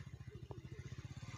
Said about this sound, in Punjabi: ਕਿੱਧਰ ਫਸਾ ਰਿਹਾ ਮੋਟਰਸਾਈਕਲ